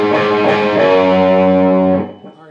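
A distorted electric guitar plays the opening half measure of a song's break, a loud, sustained chord-heavy phrase with fast picking that rings out and then cuts off abruptly near the end.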